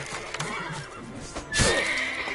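Roach, Geralt's horse in the video game The Witcher 3, lets out a loud, clear neigh with a rising whinny near the end, over a background of game ambience and faint movement.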